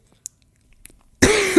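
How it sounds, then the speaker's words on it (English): A single close cough bursts out near the end after a couple of faint clicks and near silence, loud and rough against a quiet room. "ignore that cough"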